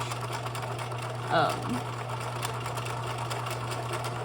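A domestic sewing machine runs fast through a long straight gathering stitch at its longest stitch length, a steady mechanical whir with hum throughout, briefly broken by a voice speaking.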